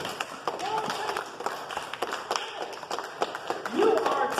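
A worship congregation in church claps hands in a steady, repeated rhythm, the crisp claps mixed with singing and calling voices throughout.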